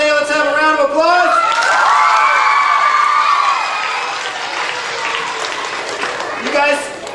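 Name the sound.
round of applause from children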